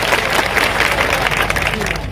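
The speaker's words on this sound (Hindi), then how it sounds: "उनके लिए जोरदार तालियां बजाइए।" Applause from a crowd at a political rally for the Amarwara by-election, a short burst of steady, dense clapping that stays loud throughout.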